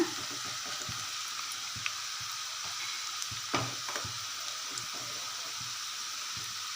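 Steady sizzling and bubbling of homemade herbal hair oil boiling on high heat in a pan, with small scattered pops and light clinks, continuous throughout with no talking.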